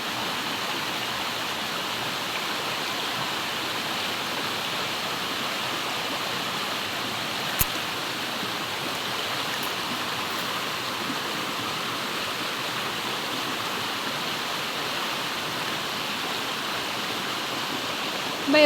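Clear, cold stream water flows over rocks in a steady, even rush, continuous and fairly close, with one brief click partway through and no talking.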